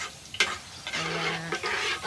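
Frog pieces frying in a pan with fish sauce, a steady close sizzle with stirring through most of the short stretch and no talk.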